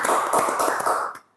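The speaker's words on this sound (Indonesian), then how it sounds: "Tepuk tangan dulu buat Bang Robi Kurniawan Saputra." A short burst of applause for a guest on an Indonesian talk show, several hands clapping close and dense for about a second before stopping abruptly.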